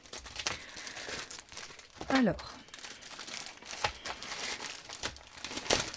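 Paper packaging crinkles and rustles in short bursts close by as a scrapbooking supply box is opened, a person talking over it, with one brief tearing swish midway.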